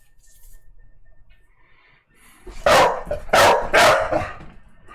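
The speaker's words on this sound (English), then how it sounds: "You noticed Saki barks now." Saki the dog barks three times in quick succession, loud and close, after a quiet stretch with faint background noise.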